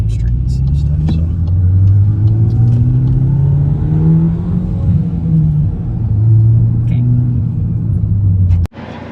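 A Volkswagen MK8 GTI fitted with a 034 Motorsports rear sway bar driving slowly at about 25 mph through a residential neighborhood, heard from inside with a loud, steady engine rumble that swells and eases with light acceleration, then cuts off abruptly near the end.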